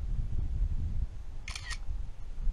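A camera shutter clicks once, a quick burst of mechanical snaps, taking a picture of a freshly caught fish beside a small pond, set against low outdoor rumble.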